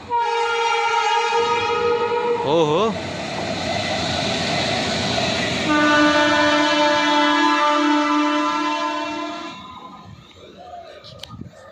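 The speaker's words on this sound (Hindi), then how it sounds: "ये जो अभी लोकोमोटिव है दुनिया का सबसे फास्टेस्ट लोकोमोटिव है" A locomotive passes at close range, sounding a loud multi-tone horn twice with steady rail rumble between the blasts, and a man briefly exclaims near the end.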